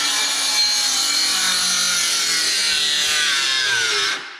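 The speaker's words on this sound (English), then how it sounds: "So you can hear it binding up and it's slowing the saw down" A power saw cuts through wood with a loud, harsh whine that gradually drops in pitch as the blade binds and slows, then cuts off.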